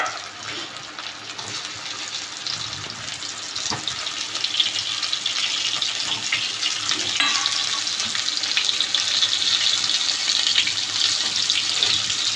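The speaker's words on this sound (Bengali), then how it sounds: "আলুগুলো ভেজে নিচ্ছি।" Potatoes frying in a pan with eggs nearby, a steady, fairly loud hiss and sizzle of hot oil, with occasional stirring clatter and no talking.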